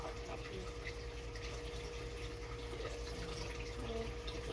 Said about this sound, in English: A little bit of soap with some water